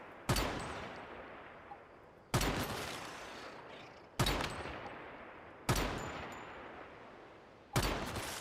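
Gunfire in the 7 Days to Die game: five loud, sharp shots spaced about two seconds apart, each with a decaying tail, and no talking.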